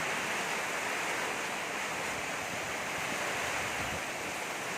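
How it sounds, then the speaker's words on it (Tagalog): Constant roaring typhoon wind with a hiss of heavy rain, a dense broadband wash that stays loud and unbroken throughout, at night. "malakas po ang hangin, ang ulan"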